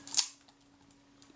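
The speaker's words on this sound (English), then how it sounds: "The shutter itself," Shutter release of a Kodak Retina IIIc camera firing once, a single sharp mechanical click near the start followed by a quiet whirring tail, heard up close with no talk.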